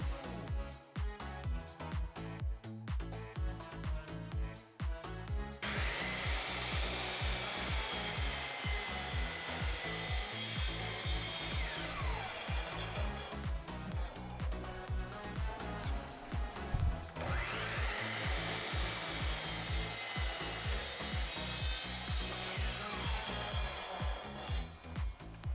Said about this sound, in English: I cut the pieces to size using my miter saw